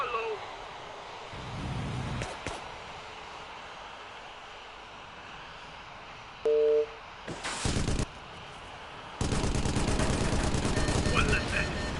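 Gunfire crackles in the Vietnam-era air combat game Air Conflicts: Vietnam over a steady aircraft engine drone, with a short burst midway and a long, loud rattling volley at the end.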